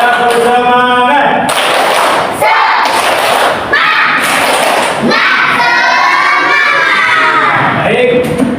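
Schoolchildren in a classroom clap a loud rhythmic spirit-clap pattern in bursts, with shouts and cheering between the clap sequences, close and energetic.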